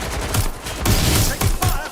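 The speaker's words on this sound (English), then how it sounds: "I'm getting shot at here!" Rapid gunfire in the video game Watch Dogs Legion: several loud, close bursts crack in quick succession over about two seconds, one right after another, with no pause for voices.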